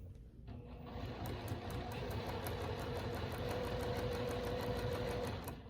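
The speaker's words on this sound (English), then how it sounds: "So I will go ahead and sew this seam." A sewing machine runs steadily, stitching a quilt block seam with a fast, even needle patter over a low motor hum, faint and close with no talk.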